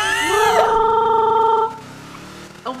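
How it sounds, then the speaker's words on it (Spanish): A telephone rings with a bright, warbling electronic tone in a quick burst lasting over a second, then cuts off, leaving quieter background sound. "un teléfono a lo mejor"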